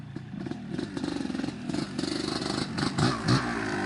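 A 1991 Kawasaki KDX250 off-road two-stroke motorcycle revs in quick pulsing bursts, rising and falling near the listener, with a couple of sharper throttle blips toward the end and some clatter.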